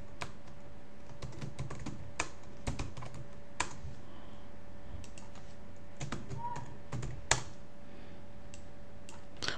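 Fingers type on a computer keyboard while building a website, close rapid clicking keystrokes in uneven bursts with brief pauses, over a faint steady room hum.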